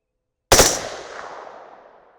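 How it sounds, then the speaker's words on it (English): A single sharp, loud rifle report from an AR-10 (Aero Precision M5E1) fitted with a Silencer Co. Omega suppressor, cracking suddenly after a silent lead-in and trailing off in a long decaying echo. "let's do a 4-shot group with the suppressor on there"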